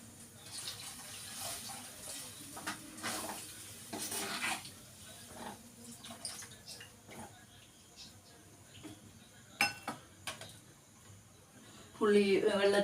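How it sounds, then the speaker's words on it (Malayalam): Plain water is poured into a cooking pan of simmering tamarind mixture, giving faint splashing and bubbling with intermittent stirring and utensil clinks, then a louder swell of pouring at the end. "കുറച്ച് വെള്ളവും കൂടി ഒഴിച്ചു കൊടുക്കാം കേട്ടോ"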